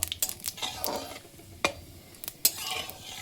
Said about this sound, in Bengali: এবার এই ফোড়নটাকে একটু নাড়িয়ে চাড়িয়ে দেব